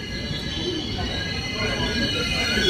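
A passenger train on the Hyderabad to Chennai route rumbles steadily through a station, growing slightly louder toward the end, with a constant hum of rail noise and no clear talking.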